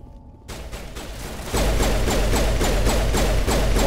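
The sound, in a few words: pistol gunfire in the video game Mass Effect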